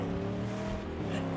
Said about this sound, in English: this car sounds so badass